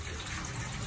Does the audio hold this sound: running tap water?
yes